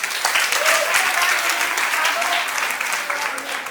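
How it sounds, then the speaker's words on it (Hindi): Audience applause at an Independence Day and Hariyali Teej celebration, a brief burst of steady, fairly close clapping from a crowd. "तालियां"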